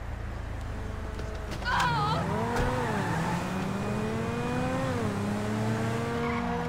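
A car in Grand Theft Auto 5 drives hard with a loud, continuous engine that revs up and down, punctuated by tire squeals.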